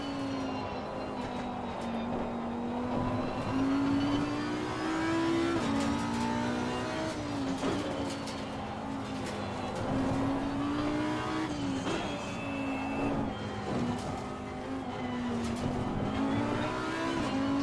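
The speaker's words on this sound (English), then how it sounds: "The track is Catalunya, Barcelona." A race car engine from the Assetto Corsa Competizione racing game at the Catalunya circuit in Barcelona drones loudly and continuously, its pitch rising and falling through shifts and revs with no talk over it.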